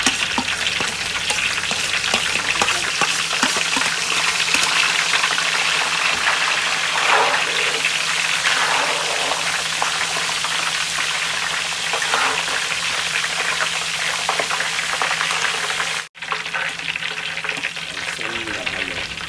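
Crushed ginger and onion sizzle and crackle loudly in boiling oil, a dense continuous frying hiss with stirring scrapes running throughout while chili garlic sauce is cooked.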